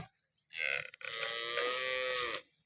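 A cow lets out a single long, loud moo, close by, with a short break near the start before the call holds steady and fades.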